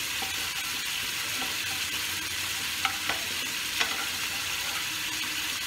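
Catfish pieces frying in a pan just after a little water is added, giving a steady close sizzle with a few faint clinks of stirring.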